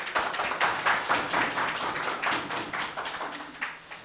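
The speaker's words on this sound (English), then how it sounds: "Give them a round of applause" Applause for the debate teams in a public sector debate competition, as the final eight are announced: a small audience claps in a dense, slightly uneven patter that holds steady, then thins toward the end.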